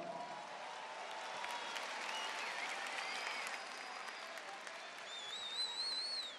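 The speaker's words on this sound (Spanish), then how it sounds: "Dale un fuerte aplauso." A crowd at the Red Bull Batalla de los Gallos rap battle final in Argentina bursts into steady, roaring applause and cheering, with a few shrill whistles rising near the end.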